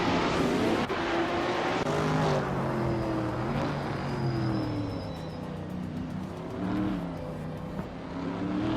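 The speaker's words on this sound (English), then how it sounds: "The Porsche 91730 Spider is showing some serious speed with the fastest lap." Can-Am race cars in a racing video game, including a Porsche 917/30 Spider, roar continuously around the track, engines droning and shifting pitch as they accelerate and pass, loud and steady throughout with no talk.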